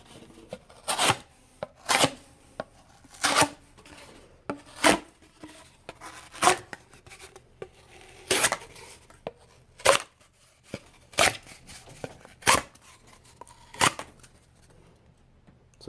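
A Spyderco Vallotton sub-hilt knife slices repeatedly through a cardboard tube, making about a dozen short, crisp scraping cuts at an irregular steady pace, close and distinct against a quiet background.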